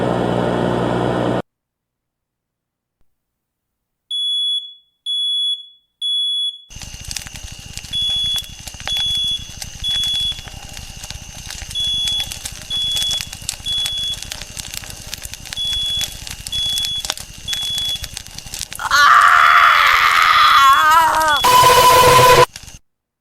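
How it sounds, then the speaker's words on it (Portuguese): A recorded house fire with a smoke alarm beeping in repeated high pulses over crackling noise and shouting voices, ending in a loud, harsh burst of screaming. "você percebe o barulho de incêndio e gritos"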